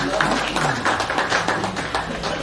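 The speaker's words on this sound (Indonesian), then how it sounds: "Kita berikan tepuk tangan." A group in a school setting gives a short round of applause, with separate claps in an uneven rhythm and voices heard underneath.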